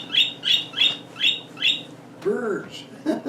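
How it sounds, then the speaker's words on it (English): Birds chirp and call outdoors in a repeated series of five sharp, evenly spaced bursts, followed by a lower, fuller squawking call and a couple of brief chirps, fairly close and clear. "Birds."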